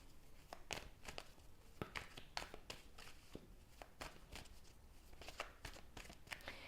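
Playing cards shuffled over and over during a card-reading session, a steady run of crisp riffling bursts and soft slaps, close and quiet, with no talk.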